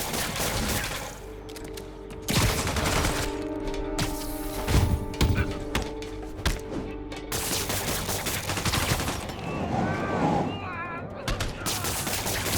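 Enemy gunfire in Marvel's Spider-Man Remastered, scattered bursts of shots and impacts mixed with crashes and thuds amid a busy fight, under sustained music and a voice talking.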